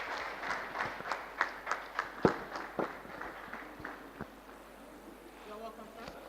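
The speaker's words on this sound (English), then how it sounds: "A round of applause for him, please." Sparse applause at a stakeholders' summit, a handful of distinct claps in an uneven rhythm that fade out after a few seconds, with speech continuing quietly afterward.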